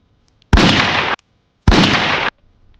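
Two loud gunshot sound effects from a comedy skit, each a harsh, broadband burst lasting about half a second, separated by a short silence.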